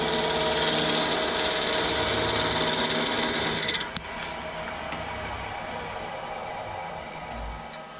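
A wood lathe turns a piece of apple burr wood, with the tool resting against the tool rest. It makes a loud, steady cutting roar for about four seconds, then eases into a quieter spinning hum once the tool lifts away.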